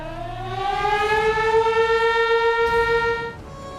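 Alert siren in a Pakistani city sounding loud and close, its steady wailing tone holding for several seconds before cutting off abruptly near the end, with no talk.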